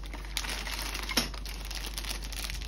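Plastic bags from a Lego Creator 31125 set crinkle softly and continuously at close range, with a couple of sharper rustles and no voices.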